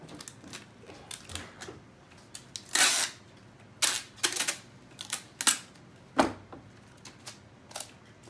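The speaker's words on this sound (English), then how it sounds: "you're going to take a little bit of tape" Adhesive tape is pulled off a roll in short bursts and pressed onto a styrofoam face shield: a series of sharp ripping and crackling strips separated by pauses, close and fairly loud, with no talking.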